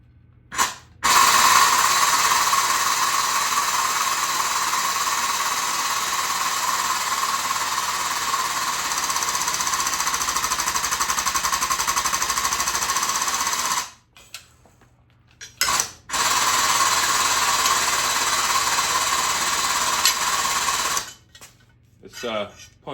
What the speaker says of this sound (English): This punch is significantly easier than drilling.